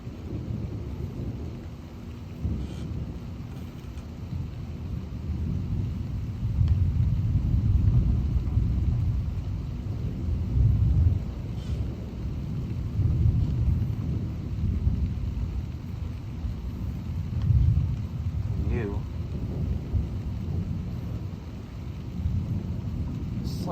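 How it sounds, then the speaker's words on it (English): Continuous low rumbling thunder rolls on without a break during an intense summer thunderstorm with wind and rain, loud and sustained, swelling and fading in long waves. "It's like this constant rumble of thunder."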